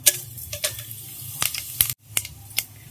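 Whole spices, including star anise and fennel, crackling and spitting in hot oil as tempering for mutton curry, with sharp intermittent pops and sizzles over a low hiss, close and fairly loud.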